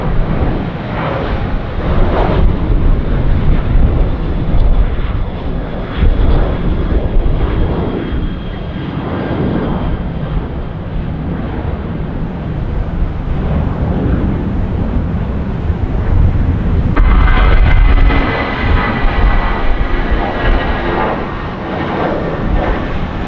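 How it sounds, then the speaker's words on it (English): Wind blowing at Tampa International Airport, a steady loud rushing roar with buffeting gusts, mixed with the drone of aircraft engines throughout and a rise in engine noise near the end. "As you can hear, the wind has kicked up."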